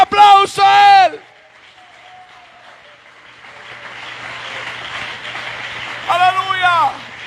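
A church congregation applauding, a steady wash of clapping that swells and holds for several seconds between bursts of a preacher talking loudly over a sustained keyboard tone.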